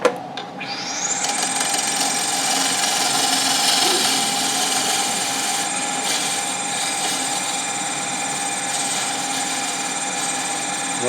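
A wood lathe spins up and turns green wood, a loud steady whining hum with high tonal overtones that holds level after a quick start, close by and without speech.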